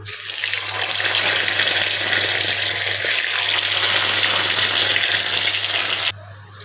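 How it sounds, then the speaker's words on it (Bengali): Paneer pieces go into hot oil, producing a dense, loud, continuous hiss of frying that runs evenly throughout and then cuts off abruptly near the end. "তেল গরম হয়ে গিয়েছে এবার আস্তে আস্তে পনিরগুলো এর ভিতরে দিয়ে দেবো"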